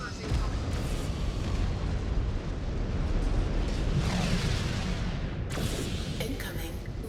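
Missile explosions from combat mechs in MechWarrior 5: Clans rumble and crackle continuously over a dense battle din, with a sharper burst toward the end and a voice heard amid the noise.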